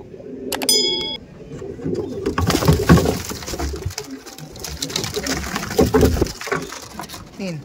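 Andhra pigeons, including Kalshira and Phulshira birds, coo together in a crowded loft, with loud overlapping coos and rustling. A sharp mechanical rattle opens the sequence, and a voice speaks briefly among the birds.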